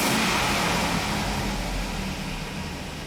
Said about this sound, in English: let me rev it up a little